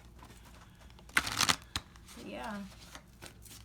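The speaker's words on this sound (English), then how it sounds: "let me shuffle from back here" Oracle cards are shuffled near a bamboo chair, a short crisp riffle burst followed by faint slides and creaks, with a brief spoken word heard.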